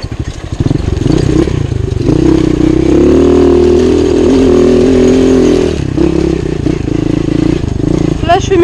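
MXR 78 motocross bike riding laps on a private dirt track, its engine droning and revving steadily with some clatter, loud and close throughout.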